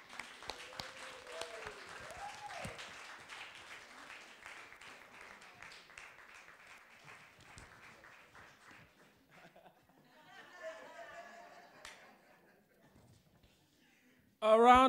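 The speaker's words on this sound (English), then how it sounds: "A round of applause for Called Out" Audience applause at a live Christian speaking event, dense clapping that gradually thins and fades over most of the stretch, followed by a brief burst of other sound at the very end.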